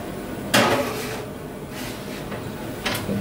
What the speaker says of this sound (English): put it in the oven.